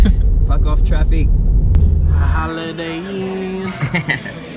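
A car rumbles loudly close by for about two seconds and then fades, leaving quieter road noise while someone talks over it.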